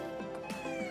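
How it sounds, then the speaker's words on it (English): Pet cat in a two-bedroom apartment meowing in quick repeated short calls, close and fairly clear, with no talking. "You can hear a kitty cat meowing."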